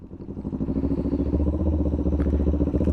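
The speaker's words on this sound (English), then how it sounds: "Now ease off the clutch and give it gas lightly." A motorcycle pulls away from a stop in first gear, its engine a close, steady throbbing thrum that grows slightly louder as it moves off.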